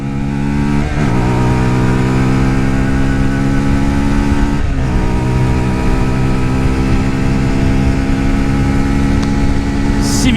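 A Lexmoto LXR motorcycle engine drones steadily and loudly while being ridden and overtaking with a passenger aboard, holding a constant revving tone with two brief dips like gear changes.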